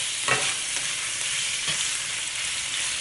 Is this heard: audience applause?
no